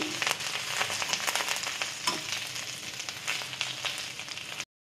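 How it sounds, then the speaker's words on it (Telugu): Curry leaves frying in oil over a low flame, a steady close sizzle with crackling pops throughout, alone without voices, cutting out abruptly at the very end. "లో ఫ్లేమ్ పెట్టుకొని కరివేపాకుని యాడ్ చేసేసుకొని కరివేపాకు కూడా కొంచెం అలా ఫ్రై చేసేసుకోవాలి"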